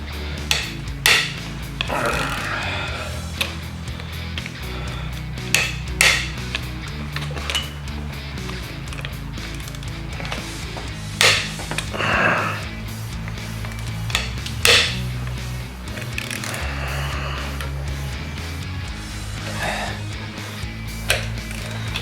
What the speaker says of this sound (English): we're gonna go ahead and break these bolts loose on top of each side, and let's pull the heads off.